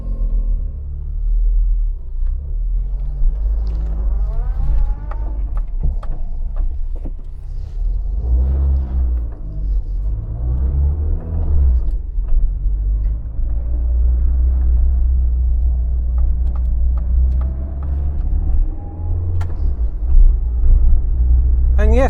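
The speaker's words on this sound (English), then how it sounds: "I'm going to take it for a little test drive" A 1990s Rover Metro on a road test drive, its engine a steady low rumble with gentle rises as it pulls away and accelerates, heard from inside the car with a voice talking over it.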